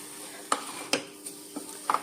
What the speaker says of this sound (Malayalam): മിക്സ് ചെയ്യുമ്പോഴും നമുക്ക് ഒന്ന് ഉടച്ചു കൊടുക്കാവേ